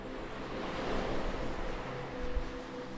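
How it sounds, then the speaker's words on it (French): Soft ocean surf washes in and recedes, a gentle, low rushing swell heard faintly with a light breeze. "Tu entends le bruit du va-et-vient des vagues qui t'apaise."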